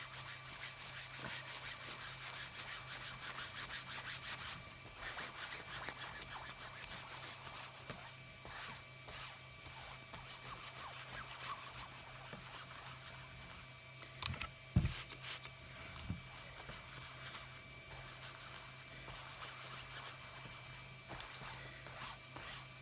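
A soap bar rubs over wet felt, a faint, steady scrubbing of short repeated strokes with a few brief knocks midway.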